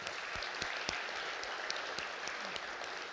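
Steady applause from an audience honoring an event sponsor, a dense even patter of many hands clapping with no voices, moderately loud and sustained throughout.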